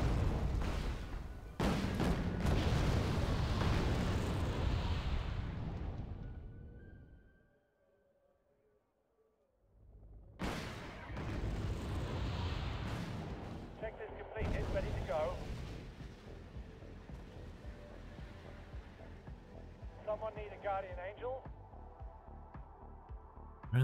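Artillery barrage in the Wargame Red Dragon strategy game pounding tanks: heavy rumbling blasts and booms, loud and sustained, breaking off into a near-silent pause before more crashing fire and scattered explosions resume.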